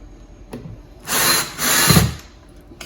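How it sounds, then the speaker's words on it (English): Two short bursts of a power drill driving a screw into a wall to mount blinds, the second slightly longer and straining lower as it bites, close by with no talk. "from here we'll be able to drill in the other one"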